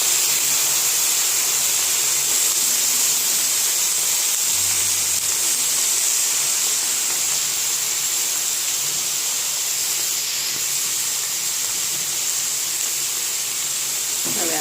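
Amaranth greens hitting a hot pan with green chillies, giving a loud, continuous broadband sizzle and hiss that holds steady throughout, close up with no voices.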